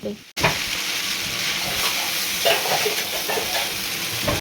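Vegetarian chow mein being stirred and tossed in a hot pan, a steady close sizzle with scraping stir sounds running continuously after a brief opening gap.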